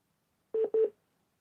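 Two short, clear telephone dialing tones sound one right after the other, each a steady beep, alone against silence.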